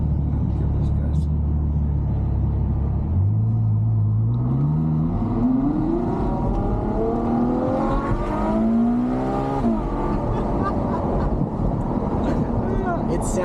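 A Ferrari GTC4Lusso engine rumbles loudly as the car pulls away, revving up through several rising gear pulls with a deep, throaty tone that climbs and drops while driving.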